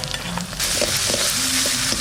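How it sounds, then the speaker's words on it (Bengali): Ginger and garlic are added to a hot pan with small prawns and sizzle loudly, the frying hiss jumping up partway through and holding steady with light stirring. "এবার আদা আর রসুনটা দিয়ে দেবো,"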